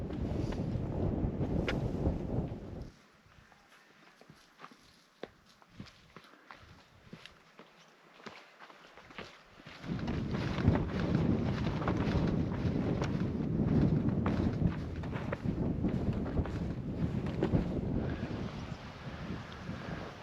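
Wind buffets the microphone on a mountain pass in Eryri, Snowdonia, heard as loud rumbling gusts that drop to a near lull for several seconds before surging back strongly, with no talk.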